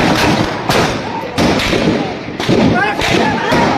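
Heavy gunfire during a street report, several loud sharp bangs at irregular intervals about a second apart, close and echoing, with someone talking between and over the shots.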